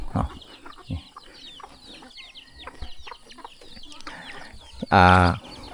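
Chickens cluck in a rural village yard where ducks and chickens are raised. Scattered soft clucks and scratching sounds build to one loud, close squawk near the end.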